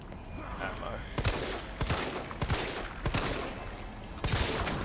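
Repeated gunshots in the Resident Evil 3 Remake survival horror game, several distinct loud blasts spaced about a second apart over a steady background din.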